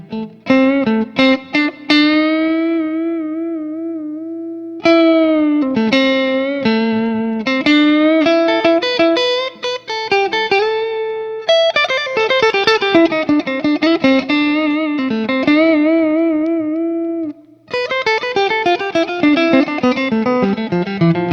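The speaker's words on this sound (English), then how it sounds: "Here are the first tones on the GLARRY. This is the neck pickup." A clean GLARRY Strat-style electric guitar on its neck pickup played through an amp, ringing notes and arpeggiated chords with a warm, round tone, sustained phrases separated by brief pauses.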